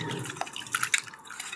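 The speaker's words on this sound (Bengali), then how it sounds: "এখন ভালো করে ধুয়ে নেব।" Water splashes and drips while freshly cut cucumber pieces are rinsed in a kitchen, soft irregular trickling and droplets close by, fairly quiet with no talking.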